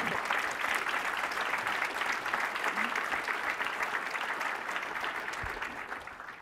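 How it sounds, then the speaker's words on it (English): Sustained audience applause fills a conference hall at a DevOps event after a technical talk, dense and steady throughout before tapering slightly toward the end, with no speech over it. "first I just want a round of applause for Colleen."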